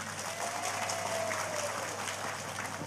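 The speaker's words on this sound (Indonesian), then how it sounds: "Tepuk tangan dulu dong." Congregation at an Islamic religious gathering (pengajian) clapping, a faint, steady spread of applause from a crowd, heard from a distance.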